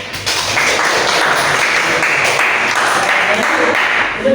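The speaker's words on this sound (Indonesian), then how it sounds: "Beri tepuk tangan dulu" Students clap in a physics classroom, steady mixed applause for about four seconds with voices faintly underneath.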